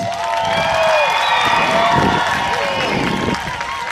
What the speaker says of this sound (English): How about one more round of applause for our dancers?